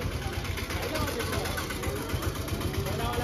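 An auto rickshaw's engine idles with a low, steady, pulsing rumble in the background, while people talk over it throughout.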